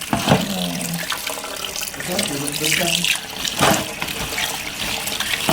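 Crushed eggshells are rinsed under a running kitchen tap in a sink, with a continuous splashing rush of water that swells and dips as the shells are moved about.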